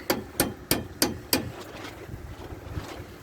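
Five sharp hammer taps in an even rhythm, close by, while fitting rear air suspension on a 1998 Dodge Dakota, followed by quieter outdoor noise and faint knocks.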